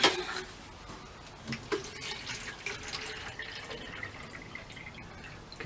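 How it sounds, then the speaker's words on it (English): Water pours and drips onto freshly potted willow tree cuttings, a faint trickling splash with a few louder drips near the start and the middle. "So the last thing to do is give them a good water."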